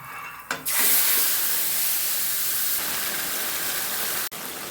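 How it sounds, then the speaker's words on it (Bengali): Nigella seeds hit hot mustard oil in a kadai, setting off a sudden loud hiss that settles into a steady, intense sizzle close by, broken by one abrupt cut near the end. "তেলের মধ্যে কটা কালো জিরে দিয়ে দিলাম।"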